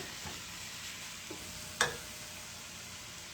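Ground venison burger meat stirred in a pan for chili, with a soft steady sizzle and faint scraping, one brief sharper clack near the middle.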